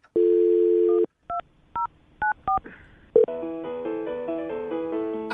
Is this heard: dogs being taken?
no